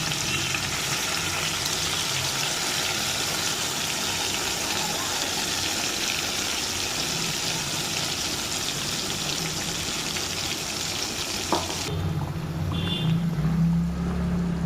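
Hilsa fish pieces sizzle steadily in hot oil with mustard paste, giving a dense, even frying hiss that runs close up and then drops to a quieter clatter near the end.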